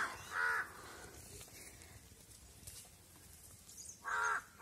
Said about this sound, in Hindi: देखो कौवा।